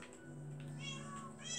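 Cats meowing in Minecraft gameplay: high, wavering in-game meows repeat several times over a low steady hum, fairly close and clear with no talk.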